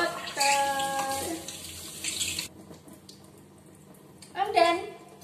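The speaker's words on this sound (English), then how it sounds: "And then you rinse the soap with the water." Water runs steadily from a tap as soap is rinsed off hands, splashing in a sink. Voices, including a child's, talk over the flow, which stops briefly before splashing again near the end.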